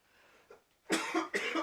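A person coughs close by: two strong, raspy coughs in quick succession, preceded by a faint throat noise, with no speech.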